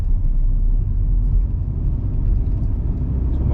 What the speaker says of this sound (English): Rev it up, clutch all the way down when I'm coming to a stop